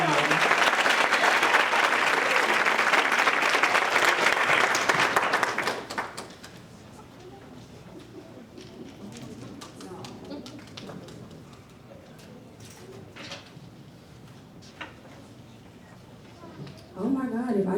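A ceremony crowd at the 2025 TAPP completion celebration applauds to congratulate Ms. Goodman: loud, dense clapping for about six seconds, then a quieter room with scattered sounds and murmuring before a brief swell near the end.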